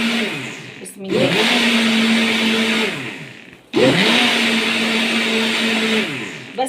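An electric mixer beats sugar, eggs, oil, vanilla and a spoon of vinegar for a cake batter, whirring loudly and steadily in two long bursts separated by a brief pause, close by with no talk over it.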